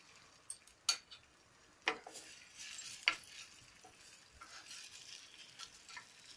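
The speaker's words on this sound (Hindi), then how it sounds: "ऑयल गरम हो गया है। अब हम इसमें ग्रेट किया हुआ 1/2 इंच टुकड़े का अदरक डाल देंगे।" Grated ginger frying in a little hot oil for samosa filling, with a faint quiet sizzle broken by a few sharp clicks and scrapes of a spoon against the pan.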